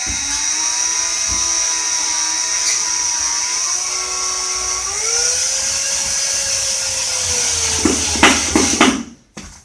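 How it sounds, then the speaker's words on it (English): A power drill driving a drywall screw whines steadily for several seconds, pitch rising partway through, then bogs and stops with a few rough bursts near the end. "I'm then going to take just a regular drywall screw and my drill"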